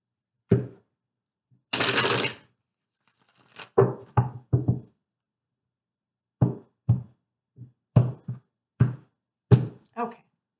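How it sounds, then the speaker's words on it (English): Tarot cards are shuffled by hand in a series of short, crisp riffling and tapping bursts, close and moderately loud, with brief pauses between them and a longer flurry near the start. "Okay, one more shuffle and we are there."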